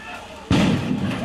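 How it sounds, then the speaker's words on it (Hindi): A crude homemade bomb blasts during post-election street violence in West Bengal, one abrupt loud boom that rolls into a rumbling decay, preceded by quieter background noise. "यहाँ पर पटाखे नहीं फोड़े जा रहे हैं, बल्कि देसी बम चल रहे हैं।"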